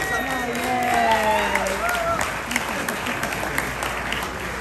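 Audience applause at a comedy roast show, a dense steady wash of clapping from a crowd mixed with some cheering and a brief tonal whistle-like sweep near the start.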